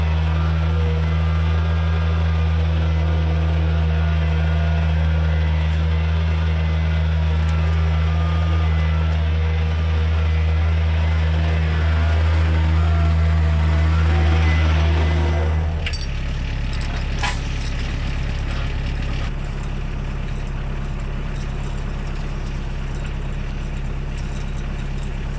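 A tractor's heavy engine drones steadily up close while it tows a broken excavator across dirt with the three-point hitch, the low rumble shifting in pitch partway through.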